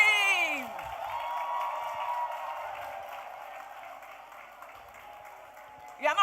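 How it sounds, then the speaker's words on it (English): Audience at a manufacturing business summit applauds and cheers with whoops after women are asked to stand, a sustained wash of clapping and crowd noise that slowly fades, with a brief louder burst at the end. "give him a resounding round of applause"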